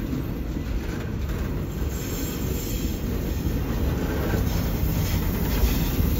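Train 553 reverses slowly into the container yard at Bua Yai Junction in Thailand, a continuous close rumble of rolling wagons with grinding, squealing wheels that builds slightly toward the end, with no talking.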